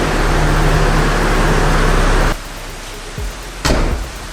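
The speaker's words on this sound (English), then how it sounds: "So right now it's actually raining" Steady rain hisses outside while a Mazda Miata is worked on, a dense broadband wash that cuts off abruptly partway through, leaving a quieter space with a couple of thumps.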